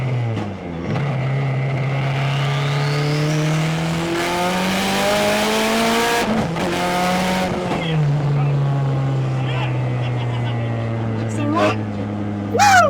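A turbocharged Nissan S13 240SX engine revs up and down several times, its pitch climbing and sweeping loudly and close throughout, with a sharp tire or throttle sound near the end.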